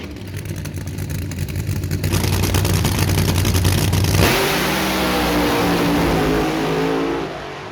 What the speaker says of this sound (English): I'm hauling off the start line, and then vroom, Michael comes past me as expected